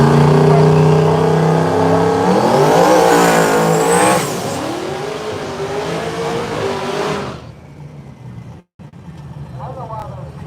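A big Cadillac and another no-prep drag car launch side by side down the strip at Southside Dragway, an intense, roaring engine note climbing through the gears before fading into the distance, with a commentator's voice over the noise.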